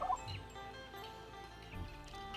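Chickens crow in a rural mountain village of the Tri people at Ban Tha Phing, Xepon. A short fowl call stands out near the start, then trails off against steady outdoor background noise, with no voices.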